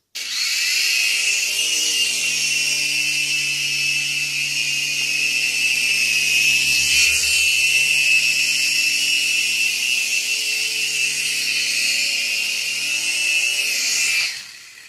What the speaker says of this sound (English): Here is a mini helicopter in the house.